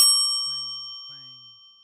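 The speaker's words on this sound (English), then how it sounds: "A small bell rang." Small bell on an antique shop door rings with two bright, quick dings that decay over under two seconds, close and clear with no other sound.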